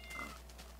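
A cat in the video game Minecraft gives one short, faint meow over a low steady hum, with no talking.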